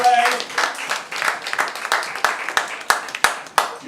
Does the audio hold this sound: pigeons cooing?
no